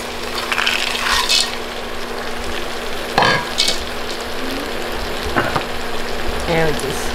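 Potatoes and peas fry in a pan for an Indian curry, giving a steady close sizzle with scattered clinks and scraping stirs, under a constant low hum.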